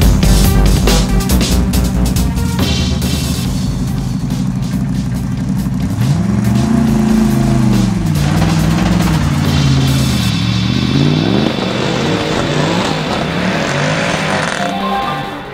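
A Mercedes SLS AMG GT3R race car leading a supercar lap at TT Assen, loud and close, its engine revving hard through rising and falling sweeps as it accelerates and shifts, other cars audible behind.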